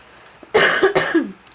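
A short burst of harsh, raspy stoner coughing, two or three hacking coughs in quick succession, close and loud in a quiet room.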